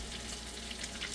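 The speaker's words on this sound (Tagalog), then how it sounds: "Binabrown ko lang po yung chicken." Chicken browns in a pan for pancit canton with a steady, hissing sizzle, close and even, with no talk over it.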